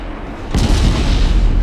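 Heavy naval shell striking a battleship in the naval warfare game Ultimate Admiral Dreadnoughts: a single loud booming impact bursts in after a low rumble, then a sustained roaring, crackling aftermath fills the rest.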